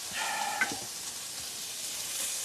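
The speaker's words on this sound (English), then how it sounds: "So now we're just going to saute that up and saute." Onions sauté in a pan with a soft, steady sizzle and faint stirring scrapes, quiet and close with no talking.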